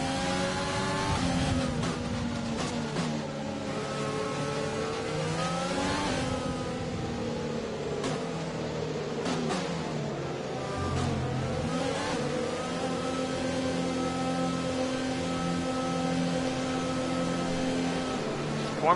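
Formula 1 race cars in F1 2020 rev and accelerate while warming up to the grid at the USA race, engines whining up and down steadily across the whole stretch, fairly close and continuous.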